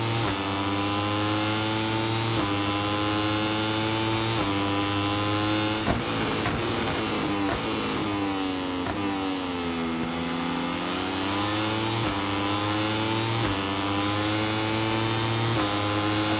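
A Moto3 racing motorcycle engine in the MotoGP24 game, downshifted into first, holds a steady loud buzzing drone that rises and falls in pitch as it accelerates and pulls out of a corner, running continuously with no talk.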